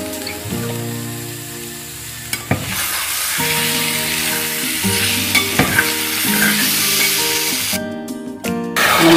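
Ripe banana frying in ghee with cumin powder, stirred in a pan: a steady close sizzle with occasional spoon scrapes and knocks, over a faint steady tonal background.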